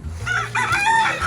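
A farm rooster crows nearby, a single loud cock-a-doodle-doo over a low background hum, no talking.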